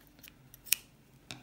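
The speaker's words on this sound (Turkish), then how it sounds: "Makas yardımıyla bunu ortadan kesiyoruz." Scissors snip hair elastics in half with a few quiet, crisp cuts, one sharp snip standing out and another at the end in an otherwise quiet room.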